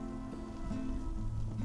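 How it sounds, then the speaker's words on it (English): Heavy rain falls on a tent during stormy wild camping, a dense steady patter that continues without a break. "It's just like a big cloak of rainfall, really heavy rain."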